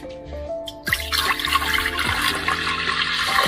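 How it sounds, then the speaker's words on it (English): Cold tap water gushes steadily into a pot, a loud continuous splashing rush being measured out to blanch tomatoes with apple vinegar for sun drying in Bosnia, starting with a brief trickle before the full flow kicks in. "Normal cold water."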